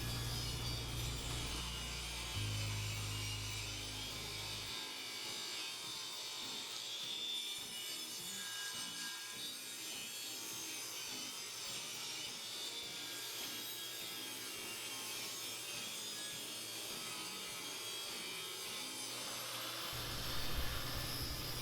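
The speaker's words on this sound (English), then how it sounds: "now I'm going to cut all these to the final width." A power saw rips wooden boards for a farm table base to a final 3-inch width, a steady, loud, rough whine of blade through wood running continuously for most of the stretch with no talking.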